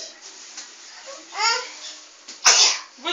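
A small child sneezes indoors, a short breathy sneeze followed by a louder, sharper one near the end, with soft babbling between them.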